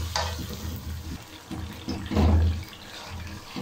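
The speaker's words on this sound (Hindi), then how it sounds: "बस थोड़ा सा पानी डालूंगा जी," Water poured into a pot of chicken while cooking pepper biryani, a soft running splash that swells briefly mid-clip over low kitchen background hum.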